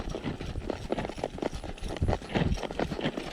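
A Walking Horse mare's hooves clip-clop steadily on a trail, a close, even rhythm of hoofbeats with no talking.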